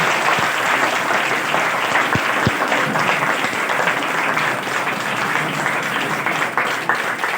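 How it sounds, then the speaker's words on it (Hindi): Sustained applause from an audience at a school felicitation ceremony, a dense steady wash of clapping that carries on without pause for several seconds, with no speech over it. "तालियों की आवाज में"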